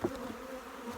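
Honey bees buzz at an open apiary hive, with the outer cover lifted during an inspection. The dense, steady hum is close and continuous for the whole moment.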